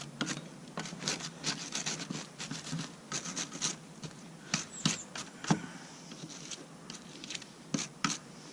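Bolts on a Storth slurry mixer being cleaned up by hand, giving an irregular series of close, dry scraping and rubbing strokes with brief pauses between bursts.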